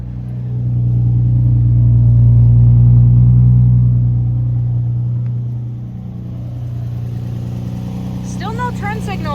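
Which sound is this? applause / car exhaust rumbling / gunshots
car exhaust rumbling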